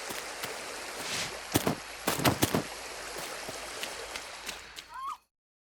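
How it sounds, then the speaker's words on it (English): Looping river stream ambience from a game's Unity and Wwise sound design: steady broadband rushing water with scattered splashes and bursts, ending abruptly in silence. "For the river, I've implemented a looping sound attached to a game object which follows a spline"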